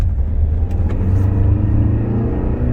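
Tata Safari top-model diesel automatic pulling hard at full throttle in city mode, a steady loud low engine drone and road rumble building from inside the cabin with no one talking.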